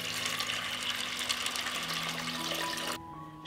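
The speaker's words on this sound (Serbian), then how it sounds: "Očišćeni i opran pasulj stavljam u šerpu i preliću sa hladnom vodom" Cold water running into a pot of cleaned, washed beans, a steady broadband pouring rush that holds for about three seconds and then cuts off abruptly.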